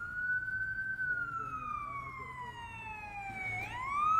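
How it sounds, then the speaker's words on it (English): A single emergency vehicle siren wails, sweeping slowly down in pitch, then jumping back up, sounding a little distant over low traffic rumble. "you can hear the sirens, the ambulances, the inhalators, the fire engines, the police cars roar by"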